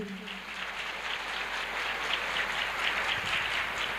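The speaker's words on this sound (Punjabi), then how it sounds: "ਹੁਣ ਤੁਸੀਂ ਆਪਣੇ ਲਈ ਜ਼ਬਰਦਸਤ ਤਾੜੀਆਂ ਮਾਰ ਦਿਓ ਇੱਕ ਵਾਰੀ" A church congregation at a Punjabi-language Christian service bursts into sustained, dense applause, a steady wash of many hands clapping at once for several seconds.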